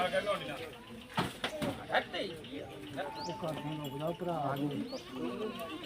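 Goats bleating repeatedly at a village goat market in Bhalur, Punjab, amid a busy crowd of voices and background chatter, the wavering calls rising over the noise.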